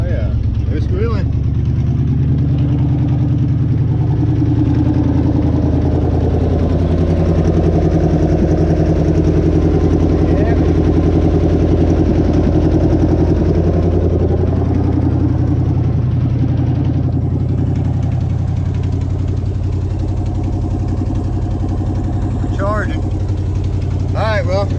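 A 1977 Chevy squarebody V8 idles steadily and close by, with its belts squealing, a constant low rumble for the whole stretch and a few brief sharp chirps near the end.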